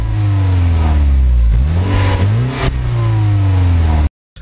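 A Mercedes W203 C-Class with a Supersprint rear silencer and middle silencer revs up loudly and close by, its exhaust note rising and falling through several throttle blips before cutting off abruptly.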